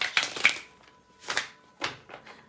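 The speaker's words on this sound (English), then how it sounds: "Hang tight while I shuffle these gigantic cards." Oversized tarot cards are shuffled close by in several soft, papery riffling bursts separated by short pauses.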